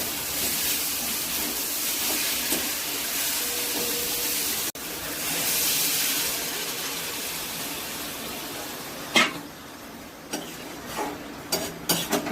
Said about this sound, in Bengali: ডালটা কষানো হয়ে গেছে, এবার পটলগুলো দিয়ে দেবো। পটলগুলো দিয়েও একটু কষাবো।